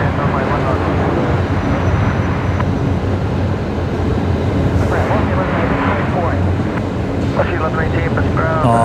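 An airliner touching down at Brisbane Airport, its loud, steady roar filling the clip while someone talks over it.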